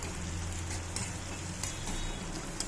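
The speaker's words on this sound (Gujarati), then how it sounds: "હવે એના ધીમા તાપે શેકાવા દેવાની છે" Onions frying in oil in a pan over a low flame for dahi tikhari, salted so they cook faster; a steady, close, even sizzle with a constant low hum and a few faint clicks, no talking.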